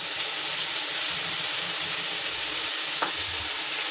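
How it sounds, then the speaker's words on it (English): Bacon frying in a dry pan with no added oil, its own fat crackling in a steady, dense sizzle close by, with one brief sharper pop near the end and no talking. "you can already hear the oil coming out of the bacon"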